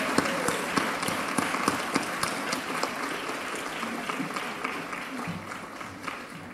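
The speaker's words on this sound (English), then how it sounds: "Please stand and give them a round of applause." Sustained applause from a standing commencement audience, a dense, even wash of many hands clapping at steady volume throughout, with scattered sharper claps standing out and faint voices underneath.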